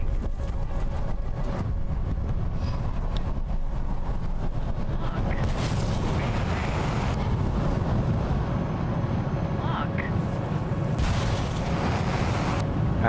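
Missile explosions and jet combat noise in War Thunder, an F-2A fighter under fire with its engine knocked out; a dense, continuous roar of engine rumble and blasts fills the whole stretch, with a few sharper bursts standing out.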